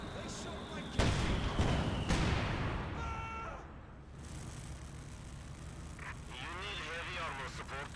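Artillery and grenade blasts in Company of Heroes 2, a loud explosion followed by rumbling fire and scattered battle effects, with a commentator talking throughout.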